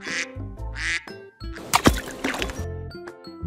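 A toy duck quacks loudly and close, in several nasal bursts with gaps between, followed by a brief busier patch of gurgling, rattling toy noise.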